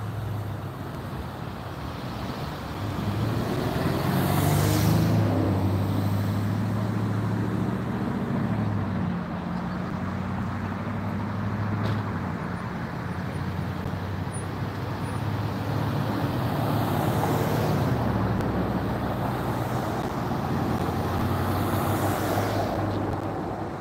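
Cars and trucks pass in and out of a college entrance on a road, a steady medium-distance traffic hum with swells as vehicles go by and an occasional brake hiss, no talking.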